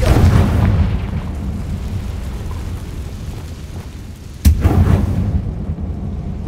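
A Confringo blasting spell explodes in Hogwarts Legacy on PS5, a loud sudden boom over a low rumbling background, followed by a rolling decay.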